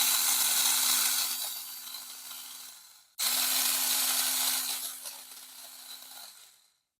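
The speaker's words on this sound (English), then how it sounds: "Now we can remove these 2 screws to get the motor off." A small electric screwdriver backs out two screws holding the motor on a RedCat Ascent 18 RC car, two steady whirring runs of about three seconds each with a brief pause between them.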